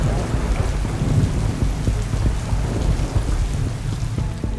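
Steady heavy rain with low rolling thunder in Manaus, deep in the Amazon rainforest; a dense, continuous downpour fills the scene with rumbles underneath throughout.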